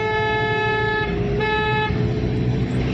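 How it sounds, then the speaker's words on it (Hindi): A car horn honks during a driving lesson in a Wagon R on the road, one sustained tone and then a second long blast over the low engine hum. "हॉर्न दीजिए लंबा लंबा दीजिए"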